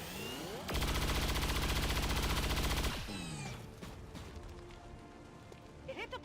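Sustained automatic gunfire in XCOM 2 aimed at an alien mech, a loud dense burst lasting about two seconds, followed by quieter game sounds and whirring effects.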